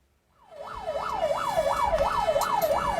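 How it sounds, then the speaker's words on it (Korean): A fire truck's siren wails in steady rising-and-falling sweeps as the truck enters a narrow alley packed with houses. It starts suddenly, then stays loud and close with no voices. "주택들이 밀집한 골목길로 소방차가 들어섭니다."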